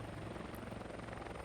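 A helicopter flies in Flight Simulator X, its rotor making a steady, loud, continuous throbbing drone throughout.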